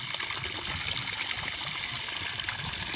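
Water splashes steadily from an old hand pump, roughly fifty years old and missing its handle, a close, continuous gushing hiss with no talk over it.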